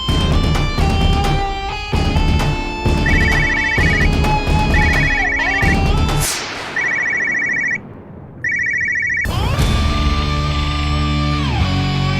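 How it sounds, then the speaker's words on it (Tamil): A telephone rings on an outgoing call in a repeating electronic ringtone pattern, loud and close, with bursts of music-like tones between the rings. "நாயுடுக்கு ஃபோன் பண்ணி பார்ப்போம்"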